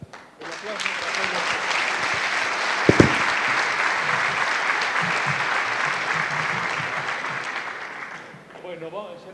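A seminar audience at a talk on sustainable parasite control applauds warmly, a broad sustained clapping that holds steady for several seconds, with a couple of sharp close claps, before fading out as voices return at the end.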